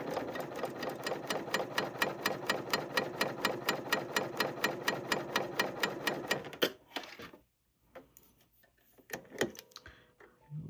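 A Bernina sewing machine chainstitches through fabric with a clear cover/chainstitch foot, running at a steady fast rhythm for several seconds. Then it stops, followed by a few quiet clicks and handling noises.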